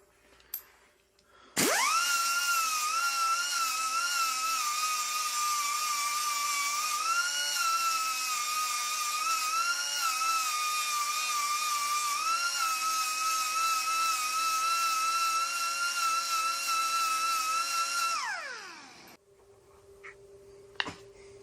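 A small drill bit bores out a broken bolt in a VW engine, one steady high whine lasting about sixteen seconds that starts abruptly and winds down at the end, loud and close.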